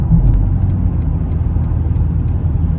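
A BMW G99 M5 Touring's engine rumbles low and steady from inside the cabin while driving, a constant deep drone with faint intermittent ticks.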